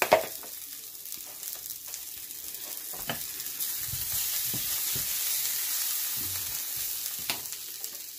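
Chicken sausages sizzle and spit in a hot pot, a steady crackling fry with occasional louder pops and stirring knocks, close and fairly soft, with no talking.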